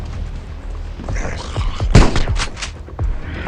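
Gunfire in the mobile game LifeAfter: a quick burst of sharp shots and booms, loudest near the middle, with scattered thumps around it.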